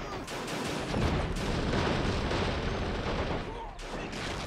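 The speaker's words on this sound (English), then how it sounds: "I'll use this mortar now to shoot onto the eastern point." Mortar and gunfire roll on a Men of War: Assault Squad battlefield, a dense continuous barrage of booms and crackling shots, loud and sustained under faint background voices.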